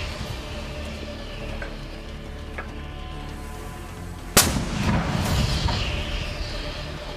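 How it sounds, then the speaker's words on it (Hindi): Hasib 111 missiles launched at Israeli soldiers on the Netzarim axis in Gaza: one sharp, loud blast cracks out midway, followed by a sustained rumbling roar over steady background noise. "उसने नेट्ज़रीम एक्सिस में तैनात इजरायली सैनिकों के ऊपर 2 हासेब 111 मिसाइलें दागी हैं"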